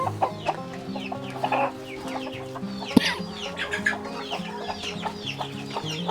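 Several chickens cluck and murmur nearby in a coop in overlapping bursts, with occasional louder squawks and a sharp knock midway.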